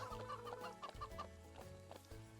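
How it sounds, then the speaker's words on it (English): Several chickens in a ranch video game cluck in quick, repeated bursts close by, over a steady droning background. "Little chickens."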